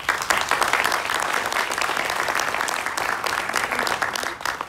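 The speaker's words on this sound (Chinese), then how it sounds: "合理，给你们自己一个掌声。" An audience claps in dense, steady applause at a team meeting, filling the room evenly before tapering at the end.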